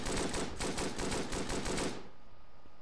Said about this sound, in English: with this gun you can just keep shooting